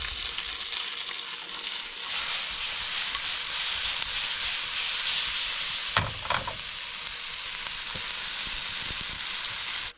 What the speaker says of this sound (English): I'm just gonna brown it off in this frying pan here.